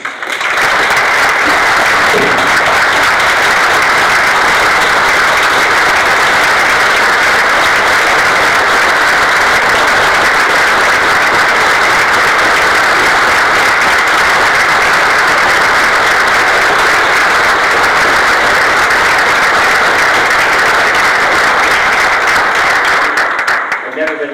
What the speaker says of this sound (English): I hope today that you will all give her a round of applause